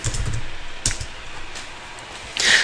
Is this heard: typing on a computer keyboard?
yes